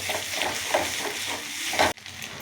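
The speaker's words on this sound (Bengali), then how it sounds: "এবার আমি ডিমটা নাড়াচ্ছি।" Eggs being stirred in a hot pan while frying for mixed fried rice, giving a steady sizzle broken by soft repeated scraping strokes, then cut off abruptly near the end.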